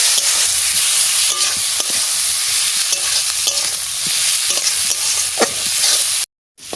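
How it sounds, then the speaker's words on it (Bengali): Spiced small new potatoes sautéed in a pan with a splash of water, loud steady sizzling under repeated scraping stirs, ending in a brief cut to silence. "হালকা একটু জল দিয়ে দেব জল দিয়ে কষায় নেব"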